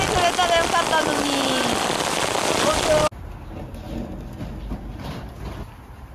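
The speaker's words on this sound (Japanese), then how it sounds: "瞬間にこんなにひどい雨が降ってきました。" Heavy rain pours down at a drift racing event, a dense, loud hiss of drops drumming on surfaces that drops back to a softer steady patter partway through.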